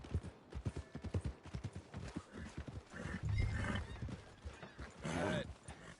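Horse hooves clip-clop at a brisk, even walk in a PS4 video game, close and clear, with a whinny and some creaking tack partway through.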